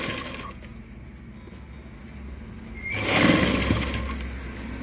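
A sewing machine runs a continuous basting stitch around a blouse, a steady mechanical whir that holds for about three seconds and then grows louder and busier near the end, with no voices present.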